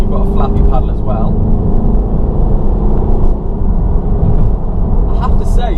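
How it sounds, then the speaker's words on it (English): A Mercedes V250 Marco Polo camper van pulls away under hard throttle, its engine drone steady and loud from inside the cabin while someone talks over it. "So pulling out of here, just plant my foot, and you've got a flappy paddle as well."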